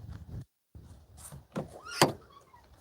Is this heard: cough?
no